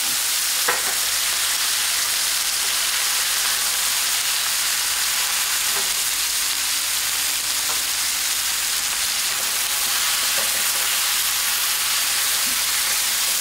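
Chicken, onion, tomato and green pepper fry on high heat in a pan for a Basque-style chicken dish, giving a steady, loud, continuous sizzle with a few faint stirring clicks and no talking.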